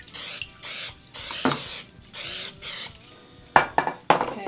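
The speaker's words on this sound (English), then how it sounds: "Now I'm going to take some olive oil spray. That keeps them from sticking." Olive oil cooking spray hissing onto a pan for biscuits in a Cajun home kitchen, five even bursts of about half a second each, then a few sharp clatters of the can and pan at the end.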